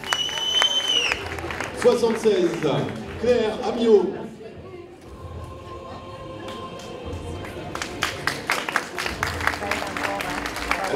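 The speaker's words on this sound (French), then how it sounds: "On peut les applaudir, on peut les applaudir." A pageant crowd claps for the contestants, the applause rising after about 7 seconds into a crisp, fairly close patter of many hands. Before that, a presenter speaks over a low room murmur.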